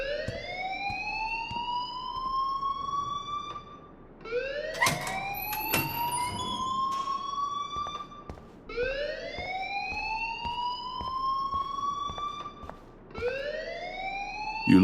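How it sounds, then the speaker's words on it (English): A loud electronic alarm from the Life is Strange video game wails in rising sweeps, repeating about every four seconds and sounding continuously with no talking. "please turn off that alarm since that's your job."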